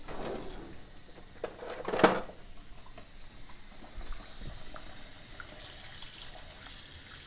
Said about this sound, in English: I am going to rinse these bones off